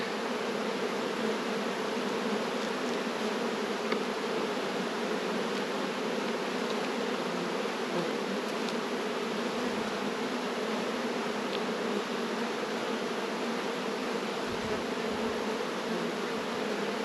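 Honeybees buzz steadily around an open hive during splitting and honey box work, a continuous close drone with a few louder passes of individual bees.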